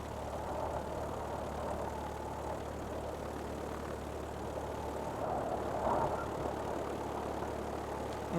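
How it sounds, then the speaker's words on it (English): A P-47 fighter's radial engine idles in War Thunder with a steady, low droning rumble that holds at an even level throughout, with no voices. "idle engine"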